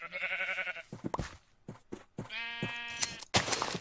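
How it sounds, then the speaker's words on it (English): Sheep bleating in the Minecraft video game, several wavering, close bleats in a row with short breaks between them and no talk over them. "Boy, am I having sheep trouble or what?"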